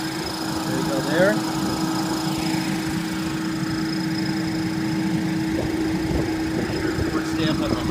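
A 2012 Ford Fiesta SE's 1.6 liter engine idles under an open hood, giving a steady, continuous hum with a constant tone throughout while someone talks over it.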